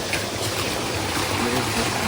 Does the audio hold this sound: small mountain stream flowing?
yes